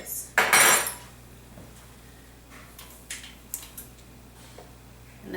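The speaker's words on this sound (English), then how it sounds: "I just take a fork to make sure that it's pretty well blended in there" A fork blends flour in a bowl for peanut butter sugar cookies: a loud bright clatter of metal on the bowl at the start, then scattered light scraping taps, close and without speech.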